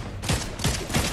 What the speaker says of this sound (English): He's sniping at me.